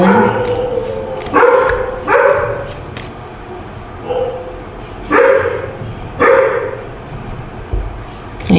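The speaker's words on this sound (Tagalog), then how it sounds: "ang ingay ng aso ko talaga pag may dumadating ng mga evil forces" A dog barks in repeated loud bursts with gaps between them, close and fairly loud, over a noisy indoor background.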